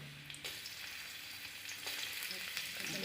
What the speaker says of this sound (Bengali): কড়ার মধ্যে একটু সরিষার তেল দিয়ে দিব। পেঁয়াজ কুচি দিয়ে দিলাম,